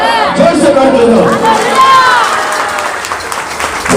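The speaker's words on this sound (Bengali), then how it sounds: "জোরসে করতালি হোক, হালেলুয়া, হালেলুয়া।" A church congregation at a worship gathering claps and cheers loudly, a dense burst of applause and crowd noise close by, with a voice calling out over it.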